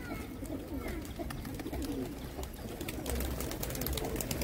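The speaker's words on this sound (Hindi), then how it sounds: "सभी ये बड़े कबूतरों के बच्चे हैं, ब्रीडर कबूतरों के" Young breeder pigeons being sold near Jammu University coo softly in a steady, low murmur that runs throughout, close by and moderately loud, with faint bird calls mixed in and no talk.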